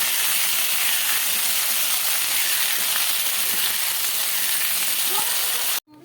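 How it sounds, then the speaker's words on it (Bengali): Potatoes fry in oil with cumin and bay leaf, making a loud, close, continuous sizzle and hiss that cuts off abruptly at the end. "এবার দিয়ে দিচ্ছি আলুগুলো একটু ভাজা ভাজা হতে যাবে"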